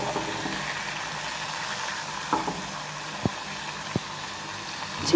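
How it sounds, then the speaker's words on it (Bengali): Ash gourd fritters frying in oil over a medium flame, a steady close sizzle with a few soft clicks and taps against the pan. "চুলার জালটা মিডিয়ামে রেখে আমি বড়াগুলো ভাজবো।"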